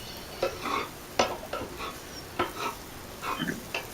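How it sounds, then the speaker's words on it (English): Chicken meatballs being stir fried in a pan: a utensil scrapes and knocks against the pan in irregular strokes over a faint sizzle, close and fairly quiet, with no talking. "I'm just continuing to stir fry it."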